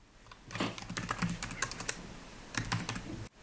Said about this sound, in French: il vous suffit ensuite de taper sur la touche espace pour rentrer l'adresse mail.